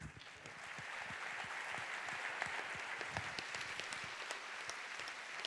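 Quiet, distant audience applause in a theatre at a season presentation, steady clapping with individual sharp claps standing out across the crowd.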